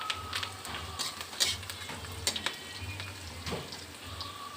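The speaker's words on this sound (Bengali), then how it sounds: "কড়াইতে তেল, 5 ফোড়ন আর শুকনো লঙ্কা, কাঁচা লঙ্কা, পেঁয়াজ দিয়ে দিয়েছি" Oil frying in a wok with five-spice, dried and green chillies and onion, a steady low sizzle with scattered crackles and occasional stirring clinks, close and moderately quiet, no talk.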